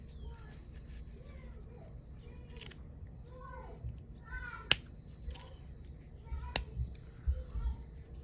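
A kitten meows softly in short rising calls while a person talks nearby, with a couple of sharp clicks.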